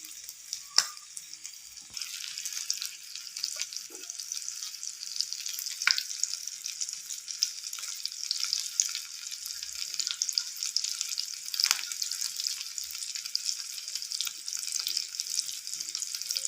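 Fish frying Mangalore style on an oiled tawa over a medium flame, giving a steady, close hiss and sizzle that runs unbroken throughout, with a few faint clinks of utensils and no talking.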